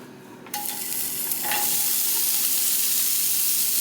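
Vegetables dropped into hot olive oil in a pan on medium heat, bursting into a loud, steady sizzle after a quiet start, with a couple of stirring scrapes as the frying settles into a constant crackling hiss.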